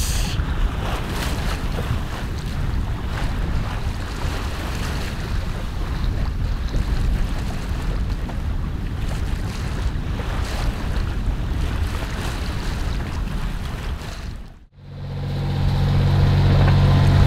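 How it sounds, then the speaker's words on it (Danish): A sailboat at sea on a solo trip through the Øresund, with loud, steady wind and wave noise and an engine rumble throughout, briefly cut off near the end before resuming. "Som I sikkert kan høre, så er motoren kommet på igen."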